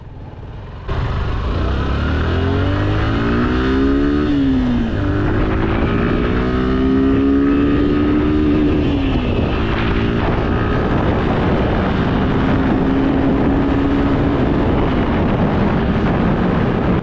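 A Suzuki Gixxer SF 155 motorcycle ridden at high rpm on a highway, its engine droning loud and steady with rising and falling pitch as gears shift, under heavy wind rush.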